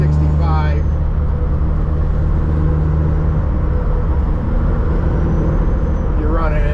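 A truck engine drones steadily while cruising on the highway at around 65 mph and 1600 RPM, with a deep constant hum and road rumble heard from the cab, loud and unbroken throughout.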